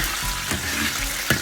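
Spring onion, ginger, Sichuan peppercorns and star anise frying in hot oil for a flavoured oil, giving a steady close sizzle with a couple of brief clatters from stirring.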